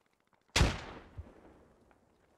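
Single sharp grenade blast in the Squad military shooter game, a loud sudden bang with a long decaying rumble, followed by a fainter secondary thud and quiet scattered pops.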